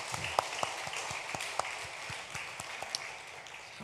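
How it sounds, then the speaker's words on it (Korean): A church congregation gives encouraging applause after a sermon remark, scattered individual claps ringing out at moderate distance over a soft room ambience. "계속해서 수고해달라고 우리 격려의 박수 한번 하도록 하십시오"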